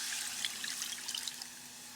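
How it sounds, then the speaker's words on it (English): Water splashes and trickles into a hot pot for making gravy with vegetable broth, a soft, brief pour heard alone, fairly faint. "plop some water in"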